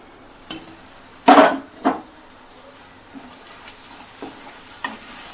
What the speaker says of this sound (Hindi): इसे अच्छी तरह से भून लेना है